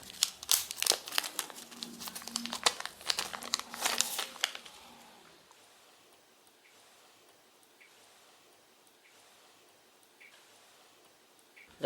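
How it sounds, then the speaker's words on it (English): Packaging of a black Nokia Lumia 620 phone crinkles and rustles in busy, close bursts for several seconds during unboxing, then fades to quiet handling with faint occasional clicks. "Now we start with the unboxing."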